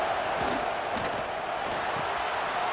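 Home crowd in a College Football 26 video game, Northwestern Wildcats against Nebraska Cornhuskers on a third down, a steady, dense roar of cheering that holds evenly throughout with no commentary over it.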